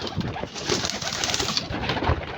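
Pigeons coo softly and repeatedly, several low, throaty calls overlapping in a close, continuous murmur.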